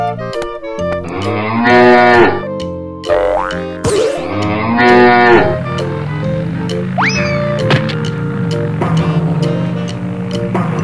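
A cartoon cow gives a loud, drawn-out moo over bouncy music, with springy boing effects and playful sound effects following.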